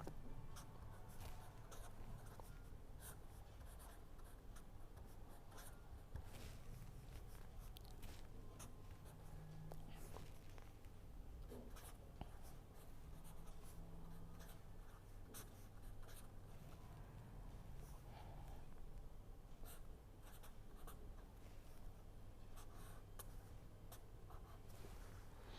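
A pen scratches steadily across paper during a lecture, a continuous faint scribbling texture under a low background hum, with no speech.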